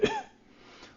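A single short cough up close, a sharp burst that trails off into quiet room noise.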